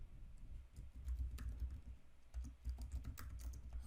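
Steady computer keyboard typing with irregular clusters of key clicks, close and moderately loud over a low background hum, while a Red Hat Ansible task for installing Apache is entered.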